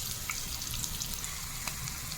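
Soft sizzling and crackling of onions and green chillies frying in a pan, quiet and steady with a few brief pops.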